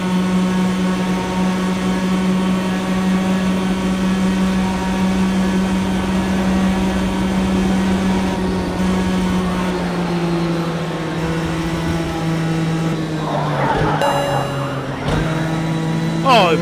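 Race car engines from the Project Cars 2 racing game drone loudly and continuously, a steady high-revving tone with a gear change or slowdown near the end.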